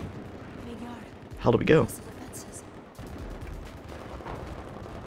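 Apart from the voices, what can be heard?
gunfire in Battlefield 4 video game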